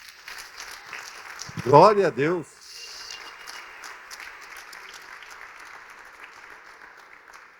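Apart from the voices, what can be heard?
church congregation applauding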